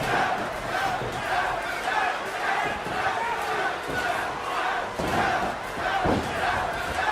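A WWE 2K arena crowd roars steadily at a wrestling match, a loud continuous wash of cheering with a few thuds under it.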